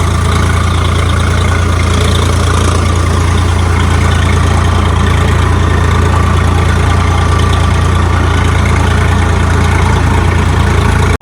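A heavy Swaraj tractor engine roaring steadily and loudly at high RPM throughout, with a deep constant rumble and no pauses.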